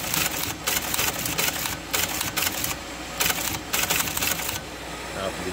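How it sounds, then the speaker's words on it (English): A Teletype Model 28 machine prints with loud, rapid mechanical clatter in repeated bursts as keys are typed on its keyboard, close up with a running motor hum underneath. "as I type on the keyboard"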